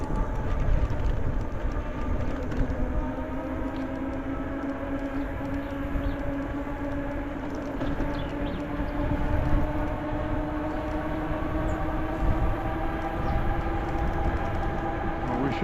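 A long train rolls past on nearby tracks toward its caboose, a steady rumbling roar with droning tonal whine that rises and settles over the whole stretch, moderately loud and continuous.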